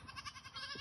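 A group of goats bleats in a brief, faint, wavering cry, close by and alone.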